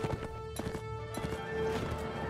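Many horses' hooves pound in a continuous, rumbling clatter during a spread-out video game battle, dense and fairly loud with sharp impacts and a steady background din.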